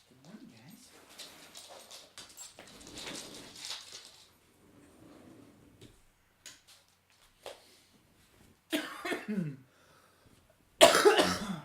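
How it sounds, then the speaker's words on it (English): A few loud, harsh coughs burst out near the end, following stretches of quiet speech and some soft vocal noises. "I'm back. With all my loud coughing, it seems."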